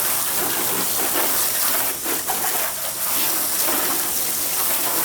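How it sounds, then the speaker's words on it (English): A garden hose sprays water onto a filthy car being washed, a steady broadband hiss of spray and splatter running loud and continuous throughout. "this is the water coming to it"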